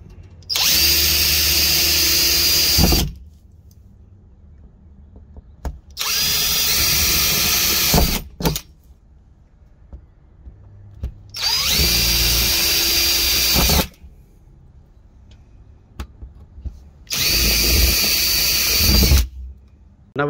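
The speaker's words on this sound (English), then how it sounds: "So now we're just gonna go ahead and drill it with the smaller drill bit." A power drill fitted with a small bit bores holes while an EZ Claw tensioner bracket is mounted for a trailer air line. Four loud, steady bursts of a few seconds each, separated by near-silent pauses.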